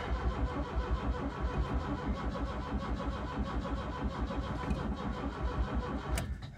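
A Mk.2 Ford Escort RS2000 cranks on its pre-engaged starter, a loud, close, rhythmic churning of the engine turning over that continues steadily without catching and cuts off near the end.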